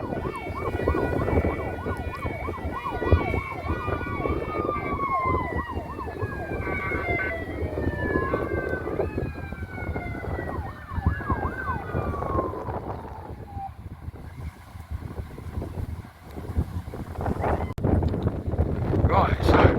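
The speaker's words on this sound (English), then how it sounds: "Some of those fire engines are half noisy." Several fire engine sirens wail and overlap at an air show at Blackbushe, their rising and falling tones sweeping for over ten seconds. They sound moderately close under heavy wind buffeting on the microphone, with faint movement sounds at the end.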